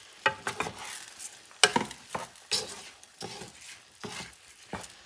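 Rice being stirred into Spanish octopus rice in a pan, giving a series of close scraping, clattering stirring strokes in an irregular rhythm with a soft sizzle underneath.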